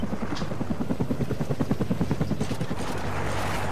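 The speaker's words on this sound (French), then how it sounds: "C'est quoi ces hélicos de merde?" Helicopters in Call of Duty: Ghosts thud overhead, their rapid rotor beat pulsing loudly and steadily before fading into a broad whooshing wash as they pass.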